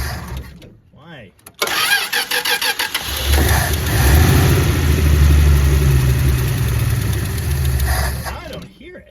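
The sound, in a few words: 1962 Dodge Lancer slant six engine starting and running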